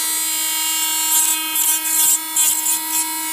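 A cheap Chinese mini rotary grinder with a burr bit works metal, giving a steady high-pitched motor whine with short bursts of harsher grinding as the bit bites the workpiece.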